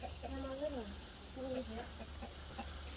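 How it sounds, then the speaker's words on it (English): Chickens in a chicken yard cluck and squawk in short, agitated bursts, two clear calls close by followed by fainter clucks, over a quiet background. "The chickens are going nuts because we're in here."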